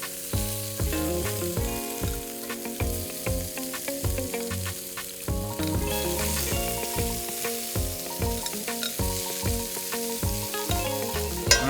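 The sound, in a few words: shrimp searing in cast iron pan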